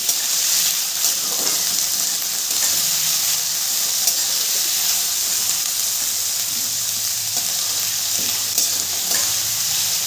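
Carrot and cauliflower pieces frying in a pan, giving a steady hissing sizzle with scraping stir strokes throughout, close and even, with no talking.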